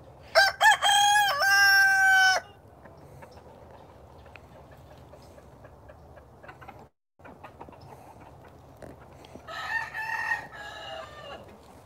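Chickens and a rooster on a plant nursery grounds, with a loud, near rooster crow opening the scene, a quieter stretch of faint clucking and background noise, then a second crow farther off near the end.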